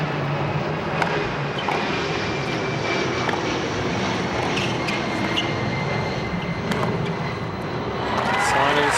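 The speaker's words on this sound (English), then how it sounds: "As you can hear an airplane taking off from nearby LaGuardia." A jet airliner takes off from nearby LaGuardia airport during a US Open tennis match, its steady broad roar filling the background under a commentator's voice and crowd ambience.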